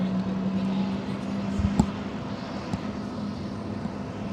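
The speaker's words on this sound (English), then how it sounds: "And there's an engine start." A jet engine spools up at San Jose Airport during plane spotting, a steady low drone with a faint rising whine heard at a distance, broken by a couple of short knocks.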